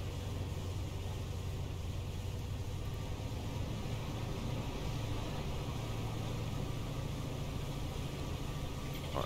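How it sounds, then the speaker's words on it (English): Upgraded fishing boat engine in Fishing North Atlantic, a steady, loud, droning hum with a low rumble that runs unchanged throughout, heard alone with no talking. "Boat's got a lot more speed now. We've upgraded the engine"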